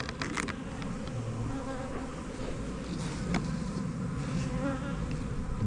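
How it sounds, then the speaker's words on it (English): Bees buzzing steadily outdoors among long grass, a continuous close drone with a few louder passes near the microphone, no talking. "just bees in that one"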